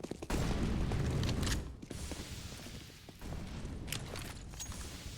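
A grenade detonates in a Counter-Strike: Global Offensive match on the Overpass map, a loud booming burst followed by clattering game sounds and sharp cracks of gunfire at mid distance.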